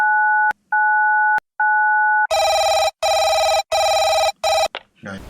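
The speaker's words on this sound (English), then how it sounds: "The headmaster entered the numbers 999 into his mobile phone and pressed the call icon." A mobile phone places an emergency call: a few short keypad beeps, then a loud, close electronic ringback tone repeating in steady bursts with brief gaps.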